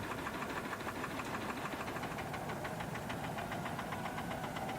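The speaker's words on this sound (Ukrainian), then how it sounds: "Міні-трактор Porsche Diesel." A Porsche Diesel mini tractor engine runs steadily nearby, a continuous knocking diesel throb with a fast even pulse that holds at constant loudness throughout, with no talk over it.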